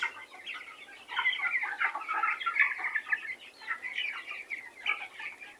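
Noiler and broiler chickens clucking together in a shared pen, a steady overlapping chorus of soft clucks and chatter from several birds at moderate distance, continuous throughout with no talk.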